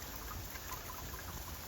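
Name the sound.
heavy rain drops hitting snow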